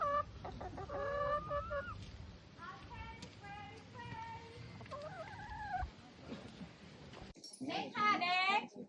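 Hens clucking and murmuring around their roost in a garden in Thailand, a mix of soft bursts and brief calls, close by, with a louder squawking flurry near the end.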